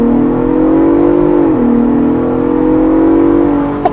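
A 2024 Ford Bronco Raptor's engine revs hard during a test drive, a loud, sustained roar that dips briefly in pitch and climbs again, heard from inside the vehicle.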